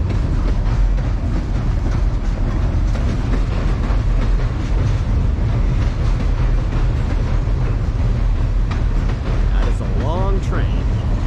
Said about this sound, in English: It's a train going by.